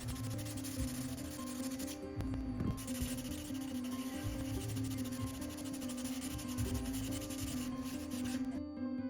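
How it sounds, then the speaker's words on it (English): Cedar is being sanded by hand with 120 grit sandpaper in steady, continuous rubbing strokes, close and fairly loud, with a couple of brief pauses. "just take some 120 grit sandpaper. And as you sand, the sawdust is actually going to work its way into those nail holes"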